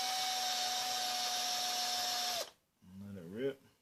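An Eastwood brake line chamfer tool spins in a cordless drill with a loud, steady high whine for about two seconds, then cuts off abruptly, followed by a short stretch of someone speaking.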